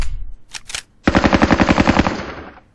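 Machine gun fire in a Vietnam War game set during the Battle of Hue, a couple of quick shots followed by a loud, steady close-range burst of rapid rounds lasting about a second and a half.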